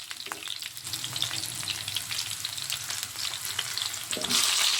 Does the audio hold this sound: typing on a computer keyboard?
no